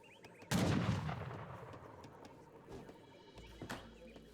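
Heavy cannons firing in the Age of Empires 3 strategy game: one loud, close booming blast that rumbles and fades, followed by fainter distant shots and battle clatter.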